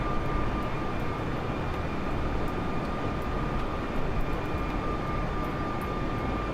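An airplane engine in a flight simulator video game drones at an even, constant level, a dense steady hum with a fixed tonal whine and no voices.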